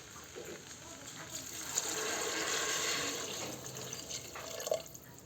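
Water pours steadily into a cooking pot of rice, a continuous splashing rush that swells in the middle and tapers off, with a brief clink near the end.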